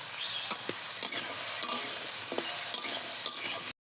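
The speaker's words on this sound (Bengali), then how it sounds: "আমি আদা জিরে দিয়ে ভালো করে একটু ভাজে নিছি" Ginger and cumin frying in hot oil for a bottle gourd dish with fish head and rice flour, a steady close sizzle broken by several sharp scrapes and clacks of a stirring spoon against the pan.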